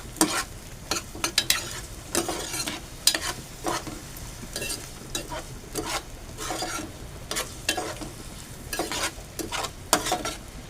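Chopped onion sautéed in a pan until browned, heard as repeated scraping strokes of a spatula over a soft sizzle, rhythmic and close at moderate loudness, without any voices.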